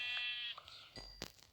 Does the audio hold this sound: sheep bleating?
yes